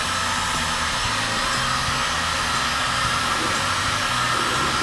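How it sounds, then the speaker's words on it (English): A heat gun warming a wine bottle blows hot air with a loud, steady whooshing roar and a low motor hum, unbroken throughout. "Just warm up the heat gun a little bit."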